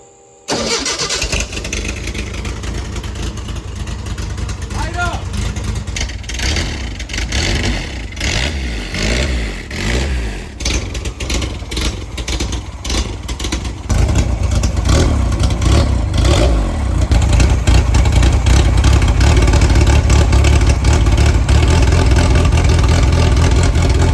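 A training Formula One car's engine cranks and fires up, then roars and revs repeatedly, loud and close, growing louder toward the end.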